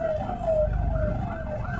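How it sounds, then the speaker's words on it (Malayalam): An ambulance siren on a road near Thalassery wails in a steady rising and falling tone, moderately loud over low traffic rumble. "നമ്മളെ വണ്ടിയുടെ വെഹിക്കിൽ ആംബുലൻസ് വരുന്നുണ്ട്."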